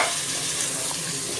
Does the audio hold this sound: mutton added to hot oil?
yes